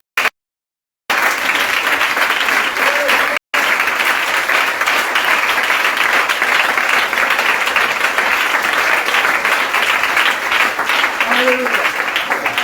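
A church congregation claps and cheers in sustained, dense applause that fills the room, loud and continuous after a brief silent gap at the start, with a few voices calling out within the crowd.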